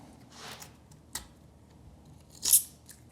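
Tape is peeled back after being sliced with a knife, giving a few short, quiet rasping tears spread out over a few seconds, the last one the loudest, with no one speaking.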